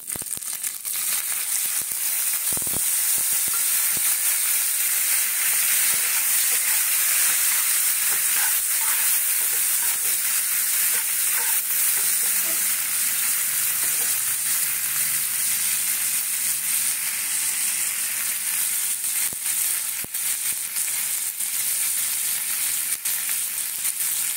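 Chicken pieces frying in oil in a pan give a loud, continuous sizzle with crackling bursts throughout, close up and steady with no talking.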